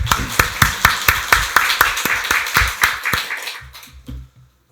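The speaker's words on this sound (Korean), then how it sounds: "박수로 하나님께 영광 돌리겠습니다" A church congregation at a Korean Sunday worship service claps in a brisk, regular rhythm, a run of about fifteen sharp, loud unison claps that thins out and fades as the applause ends.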